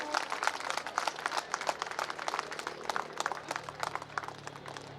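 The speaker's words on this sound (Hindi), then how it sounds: "जोरदार तालियां हो।" Sustained crowd clapping fills an honouring ceremony at an annual community get-together in Bhilai, Chhattisgarh, as a memento is presented; dense, steady applause continues throughout at moderate volume.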